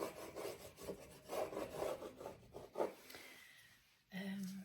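A tool scratches and rubs into paint on a canvas in an art studio, giving a run of rough strokes that fade, then a short separate scraping burst, fairly quiet and close with no talking.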